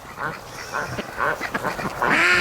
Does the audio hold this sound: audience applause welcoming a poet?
no